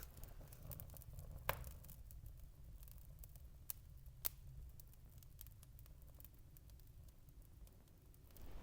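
Fireside crackle from a small outdoor fire, soft, irregular snaps and pops over a low steady rumble, with a few sharper cracks standing out, close by and fairly quiet.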